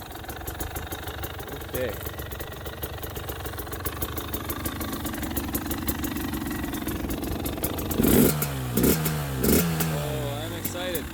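KTM 300 XC TPI two-stroke dirt bikes idle steadily while warming up, a continuous close engine drone with a few throttle blips and revs near the end, as someone speaks briefly over it.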